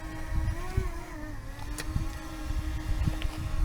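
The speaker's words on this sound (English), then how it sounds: "I think you use the Dremel tool," A Dremel rotary tool cutting a silver casting makes a close, high-pitched motor whine that dips and wavers in pitch as it bites, mixed with scattered scraping ticks and low handling noise.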